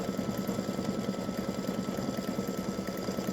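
An embroidery machine stitches with black thread, giving a steady, rapid, rhythmic mechanical whir that stays close and continuous throughout, with no talking.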